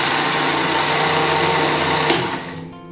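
A kitchen mixer blends homemade mayonnaise at low speed, giving a steady, close, continuous whirring motor hum that runs alone for several seconds and winds down near the end.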